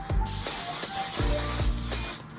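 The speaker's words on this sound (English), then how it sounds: "And I'm going to top it off with my One Size Beauty On Till Dawn Setting Spray." A One Size Beauty On Till Dawn setting spray mists in several quick hissing pumps, close and loud, with no talking.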